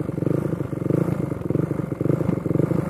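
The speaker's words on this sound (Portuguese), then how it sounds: "vou acelerar a moto sentadinho mesmo, só pra gente ver como que ficou aqui" A Honda CB 300 motorcycle running on methanol accelerates, its engine throbbing with a rapid, steady pulse that holds loud and close throughout, with no voices.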